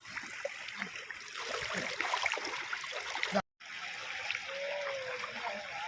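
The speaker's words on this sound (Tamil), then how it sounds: "தண்ணி எங்களை சுற்றி போயிட்டே இருந்துச்சு." A stream flows around people sitting in a river, its steady rushing and trickling close by, with splashes and gurgles throughout and a brief cut partway through.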